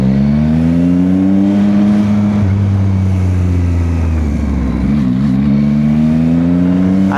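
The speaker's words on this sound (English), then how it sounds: "Like, I love this bike, the MT-09." A Yamaha MT-09 motorcycle engine drones while riding, a loud, close, continuous tone that rises and falls with throttle under steady wind rush.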